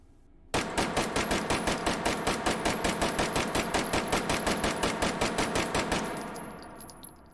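Rapid, evenly spaced gunfire from a Beretta CX4 carbine in the VR shooting game H3VR, about two dozen loud, sharp 9mm shots in a steady string that stops abruptly, then a short fading ring.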